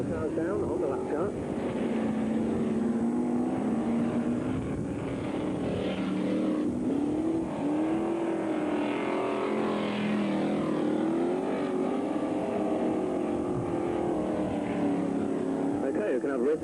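Hot Stox race cars lapping an oval at the 1991 Long Eaton Boxing Day Winternationals, a steady loud engine drone rising and falling as the cars circle, with commentary and crowd voices over it.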